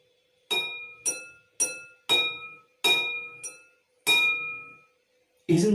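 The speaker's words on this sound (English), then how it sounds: "Now tap each bowl with a spoon" Metal spoon tapping a row of water-filled bowls as a homemade jal tarang, eight separate ringing glassy strikes at a steady pace, each note clear and sustained before fading, close and alone with no talk.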